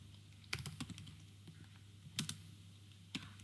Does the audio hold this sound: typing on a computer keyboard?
yes